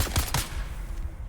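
Grenade explosions in the video game Dune: Awakening, a rapid cluster of loud, close bursts with a heavy low rumble that fades out within about a second.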